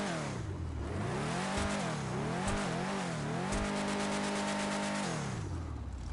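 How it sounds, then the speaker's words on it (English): A car engine in the video game GTA revs repeatedly, rising and falling in pitch in several loud, close surges, with brief tire squeal and no talking. "Now let's hear some engine rev."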